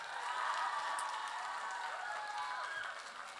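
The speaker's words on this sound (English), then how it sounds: "Let's give this guy a round of applause" A crowd at a Steubenville youth conference gives a round of applause for a young man, a soft, continuous wash of distant clapping that fades slightly toward the end.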